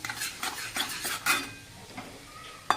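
Ridge gourd tipped into a pan with red chilli powder and stirred with a spoon, giving close metallic scrapes and clinks in an irregular rhythm over a faint sizzle, ending with a sharp knock.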